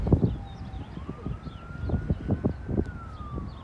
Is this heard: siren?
yes